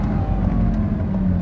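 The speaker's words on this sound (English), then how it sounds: "This is a very good sounding exhaust for a stock exhaust" The stock exhaust of a first-generation Lamborghini Gallardo Superleggera rumbles steadily on a downshift, a deep, close and sustained engine note from inside the car.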